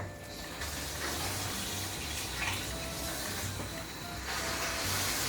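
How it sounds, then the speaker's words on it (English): Warm water runs from a kitchen tap for pizza dough, a steady close hissing rush that continues throughout without pause. "So take some warm water from your tap."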